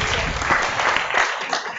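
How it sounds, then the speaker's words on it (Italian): Dense applause from an audience at a literary prize award ceremony, continuous and fairly loud throughout. "Francesca Maria Edwige Pes, quindi un applauso per la signora."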